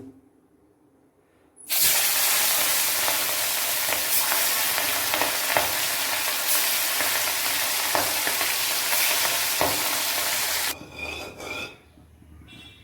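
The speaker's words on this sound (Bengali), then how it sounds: "মাছের কঙ্কালগুলো ভাজার জন্য কড়াইতে তেল দিয়ে দিলাম তেলটা গরম হয়ে গেছে তো এক এক করে করে আমি এগুলো ভেজে নেব" Fish bones drop into hot oil in a wok and burst into a loud, continuous sizzle that fills about nine seconds before dying away abruptly, with no talking.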